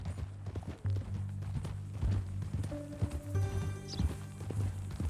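Horse hooves clip-clopping at a walk in the video game Red Dead Redemption 2, a steady close rhythm of hoofbeats with soft tack sounds and a brief voice in the background.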